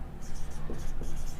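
Marker or chalk strokes on a board during a Hindi-language chemistry lecture on aromaticity, a steady scratchy writing sound in short repeated strokes, close and fairly clear over low room hum with no speech.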